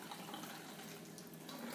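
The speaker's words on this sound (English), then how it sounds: "take your water bottle and you want to start filling it up with vinegar" Vinegar pouring into a plastic water bottle, a steady, even splashing trickle of liquid that stays constant throughout, fairly quiet and close, with no voices.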